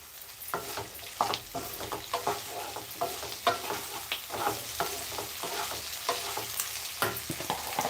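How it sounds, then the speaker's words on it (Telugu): Ginger paste fries in a hot pan for okra stew, a constant sizzle with rhythmic stirring scrapes repeating about once a second, close and moderately quiet. "కాస్త అల్లం పేస్ట్ వేస్తున్నాను"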